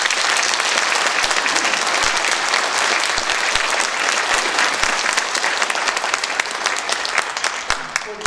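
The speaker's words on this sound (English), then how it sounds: "Let's give these officers a big round of applause." Sheriff's officers at a county awards ceremony receive a big round of applause from the audience, with sustained, even clapping from a large crowd that holds strong and slightly thins toward the end.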